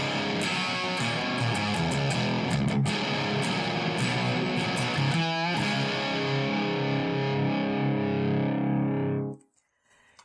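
An electric guitar runs through a Seymour Duncan Twin Tube Mayhem pedal with its gain at 25%, giving loud, steady overdriven chords and riffs with a brief bend near the middle, then a quick cutoff at the end.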